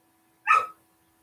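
A single short dog bark, fairly close and clear, with nothing else around it.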